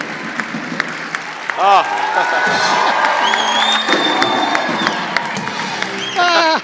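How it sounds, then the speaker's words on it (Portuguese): Audience applause and cheering on a Brazilian talk show set, a steady crowd clapping under a voice, with a couple of brief louder whoops. "Não, uma salva de palmas."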